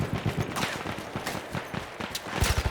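Rapid gunfire in the first-person shooter Battlefield 1, loud bursts of shots and a closing rattle of automatic fire, with game noise in between and no talk over it.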